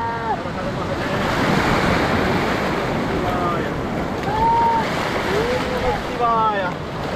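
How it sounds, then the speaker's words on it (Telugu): Large sea waves roll in at the Dwarka shore, a loud continuous surf roar with wind buffeting the microphone, while voices chatter faintly underneath. "చూడండి ఎంత పెద్ద అలలు వస్తున్నాయో"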